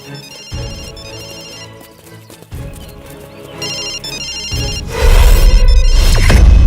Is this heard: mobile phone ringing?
yes